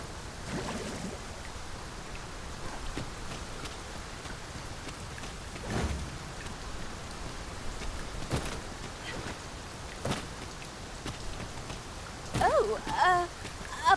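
Steady rain falls in Dragon's Dogma II, a soft, even hiss with occasional sharper drips and taps, and faint speech rises near the end.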